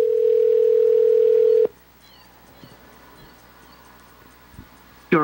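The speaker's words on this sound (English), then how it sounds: "is Andrew not going to answer his cell phone now?" A steady electronic ringback tone from a call placed to a cell phone sounds loudly for about a second and a half, then cuts off abruptly. Near-silence follows with faint small clicks, then a brief burst at the end.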